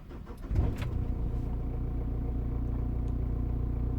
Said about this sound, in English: let's start the engine now.